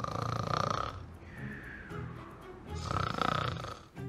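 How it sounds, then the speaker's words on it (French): A hare asleep under a tree in a children's audio story snores loudly and alone, two long rasping breaths in and out with a quieter breath between them. "celui où le lièvre ronflait encore."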